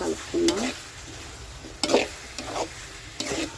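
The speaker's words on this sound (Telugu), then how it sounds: "స్పూన్నర కారం వేసినాను. అయితే కలుపుకున్నాం." A spoon stirs chili powder into brinjal curry in a pan, giving a few separate scraping strokes in a loose rhythm, close and moderately loud, with a faint sizzle underneath and no talk.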